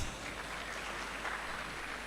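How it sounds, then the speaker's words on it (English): Applause from an audience at a convocation lecture of the Nigerian Defence Academy, a dense steady wash of clapping that holds at an even level throughout the short stretch. "A round of applause for her, please."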